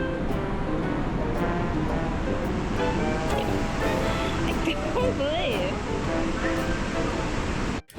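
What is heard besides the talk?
waterfall crashing into rocks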